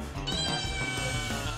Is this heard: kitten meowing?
yes